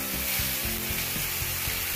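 Fenugreek leaves and garlic fry in a pan for dhaba-style lasun methi, with a loud, continuous close sizzle broken by regular scraping strokes as the greens are stirred.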